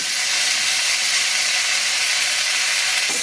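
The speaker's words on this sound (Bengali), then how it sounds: "এই যে নিম পাতা আমি ভালো করে ভেজে নিয়েছি।" Neem leaves frying with eggplant in a pan, a steady loud broadband sizzle and hiss that holds evenly throughout, close up with no talk.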